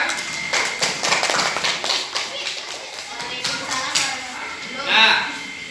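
A classroom of students claps for a presenting group, a burst of quick clapping in the first few seconds that thins out, with children's voices and chatter around it.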